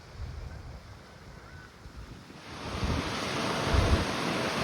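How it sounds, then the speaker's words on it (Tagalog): Strong wind buffets the microphone on a beach, rising from a moderate rush to a loud, broad roar over crashing surf. "Actually ngayon, sobrang lakas pa rin po nung hangin, no?"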